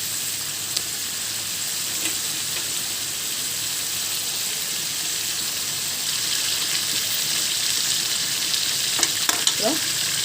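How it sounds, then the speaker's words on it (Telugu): Chicken pieces fry in a pan of gongura chicken curry, giving a steady hiss and sizzle throughout, with a few scraping stir clicks near the end and no talk. "దీంట్లో చికెన్ వేసేస్తున్నామండి"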